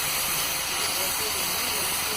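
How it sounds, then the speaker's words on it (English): A grinder fitted with 180 grit trims a donkey's hoof, making a steady, close, even hiss of abrasion that holds level throughout. "Really letting the grinder do all the work, not putting any real pressure on that at all."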